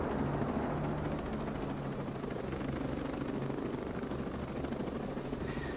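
Helicopter in Ghost Recon Breakpoint, a steady, dense rotor and engine drone that holds at a constant level throughout, fairly close with no talk over it.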